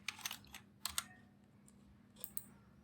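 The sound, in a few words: typing an answer on a computer keyboard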